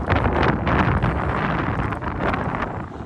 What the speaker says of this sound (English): There's that wind gust I was talking about, it's insane.